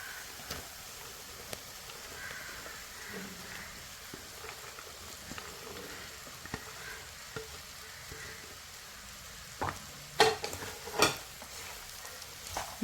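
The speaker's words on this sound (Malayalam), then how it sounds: "ഇനിയാണ് നമ്മുടെ വെണ്ടയ്ക്ക എടുത്തിടുന്നത്" Okra (bhindi) fries and is stirred in a pan, a faint, low sizzle broken by a few sharp clicks and scrapes from the stirring near the end.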